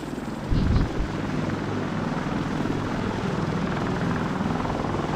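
Attack helicopter rotor in the Arma 2 combat game, a loud continuous low thumping drone with a brief louder swell near the start, heard alone without talk.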